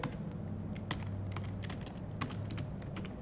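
Quick, irregular keystrokes clatter on a computer keyboard, close and crisp, over a low background hum.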